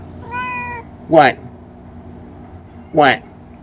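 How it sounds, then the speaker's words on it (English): A pet cat meows twice nearby, each short rising call clear and fairly loud, separated by a quiet pause, with a faint tonal hum in the room. "Hear my cat back here, Gold Digger"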